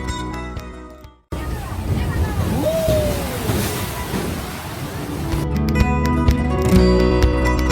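Sea waves at Patuatek, a wild rocky beach near Cox's Bazar with a fairly rough sea at midday, roar in a continuous wash of surf and wind, rising slightly toward the end.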